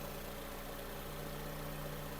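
A 2008 Volkswagen Golf V 1.6 MPI engine running on LPG/petrol idles steadily with an even, continuous low hum and faint harmonic drone, no voices.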